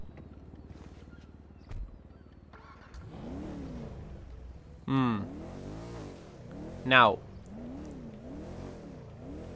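A car engine in GTA Online revs up in two sharp bursts over a lower idling drone, with someone talking briefly between the revs.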